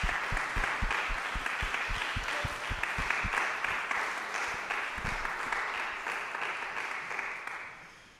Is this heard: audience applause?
yes